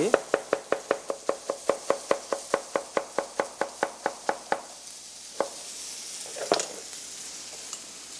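A knife slices through a pear in a quick, even run of about twenty crisp taps on a cutting board, then slows to a few scattered cuts with quiet room noise between.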